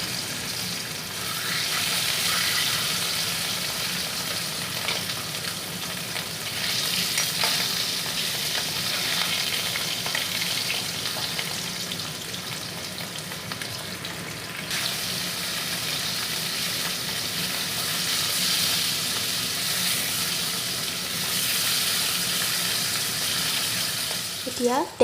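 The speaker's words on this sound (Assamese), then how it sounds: "এতিয়া মাছ কেইপিচ ভাজি লৈছোঁ।" Fish pieces fry in hot oil for a fish curry being cooked, giving a steady close-up sizzle that runs for the whole stretch with occasional stirring and scraping noises.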